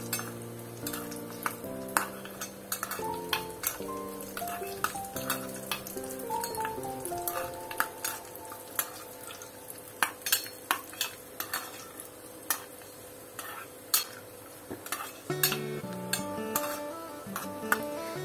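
Cashew nuts roast golden in a pan while being stirred, giving a steady quiet sizzle and frequent sharp clicks and scrapes of a spoon against the metal, under background music, with no talking.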